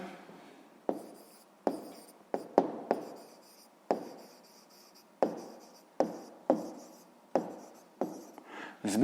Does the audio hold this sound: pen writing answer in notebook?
yes